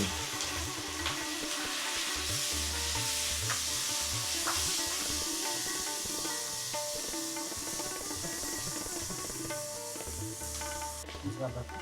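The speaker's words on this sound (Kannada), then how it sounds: "ಇದೊಂಚೂರು ಫ್ರೈ ಆಗ್ಬೇಕು" Four chopped onions frying in a pan after urad and chana dal for Bombay saagu, a steady close sizzle with repeated scraping strokes of a stirring spoon throughout.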